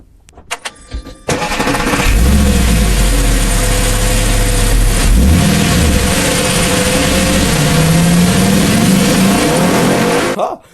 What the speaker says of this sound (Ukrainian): Ви тільки послухайте, як звучить його двигун.